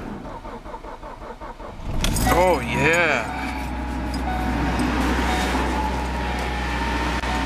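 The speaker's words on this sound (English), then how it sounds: "Let's start a car at negative 36 degrees." A 2016 car, about a year old, cranks and fires up at minus 36 degrees in record New York cold, then settles into a steady loud idle after a brief starter whine, with a voice speaking near the end.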